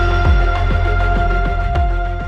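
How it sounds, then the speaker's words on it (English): A high-pitched siren vocal effect layered over a song holds sustained tones above a steady, thumping beat, loud and continuous with no talking. "It's like a high-pitched vocal effect."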